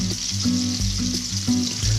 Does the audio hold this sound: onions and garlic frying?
yes